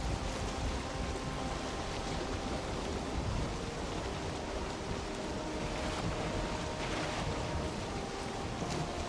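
A boat sailing across open sea in Valheim, a steady wash of wind and waves with rushing water against the hull, continuous and even, with no talk.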